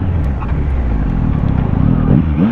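Yamaha XSR900 2023 motorcycle under hard ABS braking, a loud steady engine and road rumble close up, with a pulsing low drone and a couple of short rising tones near the end.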